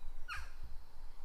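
A single bird call, crow-like, rings out once in the early morning outdoors, brief and moderately close over quiet low background noise.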